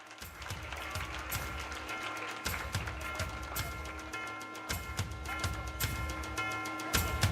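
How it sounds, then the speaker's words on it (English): Model UN audience in Mumbai applauds a young prize winner with fairly faint, steady clapping over a background of low rumble and music-like tones that continue throughout. "A big round of applause for this little champ."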